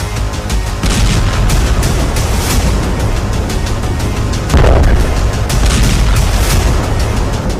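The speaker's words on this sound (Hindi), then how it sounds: "इजराइल ने जिस बंकर बस्टर बम से नसरल्लाह को उड़ाया" Explosions from a bunker buster bomb strike roar as a loud, continuous wall of booming rumble and crackle, with a heavier burst about midway through and no voices.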